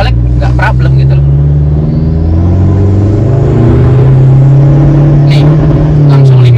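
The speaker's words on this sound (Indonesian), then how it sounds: "Nih langsung limiter, gampang banget limiter karena sudah di remap." A remapped Toyota Hilux 6x6 engine is held near the rev limiter in second gear, a loud sustained droning rev with slight pitch swells and a few sharp clicks, heard close under some talk.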